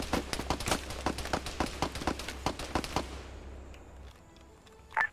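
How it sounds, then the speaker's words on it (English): Rocket launcher rounds fired in a video game make a quick run of sharp, evenly spaced pops for about three seconds before fading to a faint background, with one last louder burst at the end. "And then he remembered he had a rocket launcher. Fired a few rounds up there."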